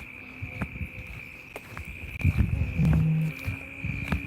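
Crickets chirping on a midsummer evening, a thin steady high trill running throughout, with faint scattered rustles and a low hum nearby.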